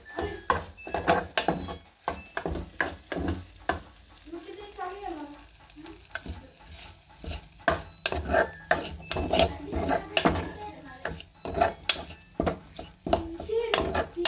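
Egg curry stirred in a pot with a metal spoon: repeated close clanks and scrapes against the pot over a faint sizzle, with brief soft speech in between.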